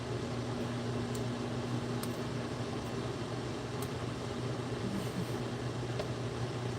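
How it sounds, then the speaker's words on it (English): A microwave oven runs with a steady, low electrical hum that drones on without a break, with a few faint clicks and ticks over it and no voices. "how annoying is the microwave sound?"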